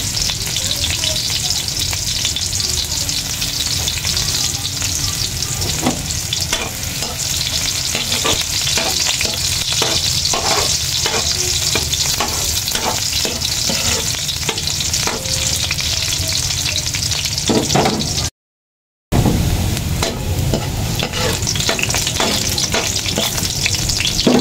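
Eggplant frying for squid adobo sizzles loudly and steadily in a pan, with repeated close scraping stirs through most of the stretch and a brief silent gap near the end.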